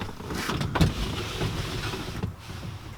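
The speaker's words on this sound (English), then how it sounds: "Open the window a bit." Electric window on a 1969 Ford Capri winding open, a steady motor whir running close by for about three seconds inside the car.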